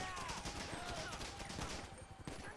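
Gunfire from the GTA Online Cayo Perico Heist game rattles in rapid bursts and scattered shots across the whole stretch, close and fairly busy, with no one speaking.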